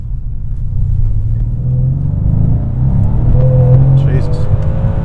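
A 595 hp tuned Mercedes C63S AMG accelerating hard from a turn in second gear, a loud, deep engine rumble building steadily in pitch, heard from inside the cabin with no talk over it.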